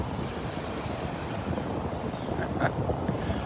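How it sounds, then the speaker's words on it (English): Steady wind roaring across the microphone at Delnor-Wiggins beach on a morning walk, with rushing surf blended into a continuous, fairly loud broadband wash and no talking. "It was going to be windy out here this morning"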